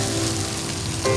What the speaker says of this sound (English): And now I'm going to stir up the rice